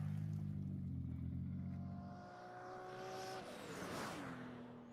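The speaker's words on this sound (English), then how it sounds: "you can hear that turbo just spooling" A car's engine in Forza Horizon 4 drones loudly and steadily, its pitch dropping midway, as a thin rising turbo whistle spools up near the end. No one speaks.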